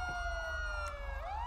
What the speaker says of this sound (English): Somebody turn the fucking sirens off, please